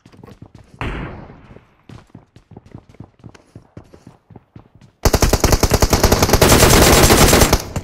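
Sharp gunshots crack in rapid bursts during a fight in a battle royale video game. Scattered single shots come first, then a dense, loud stretch of sustained automatic fire in the last three seconds.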